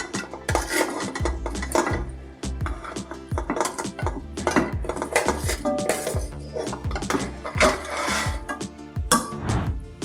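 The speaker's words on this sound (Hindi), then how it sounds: "इसका कौरमा तैयार करने के लिए मैं प्रेशर कुकर में इसको डालूँगी।" Metal cookware clanks and scrapes repeatedly as mutton pieces are dropped and shifted in a pressure cooker, a busy run of knocks and clinks.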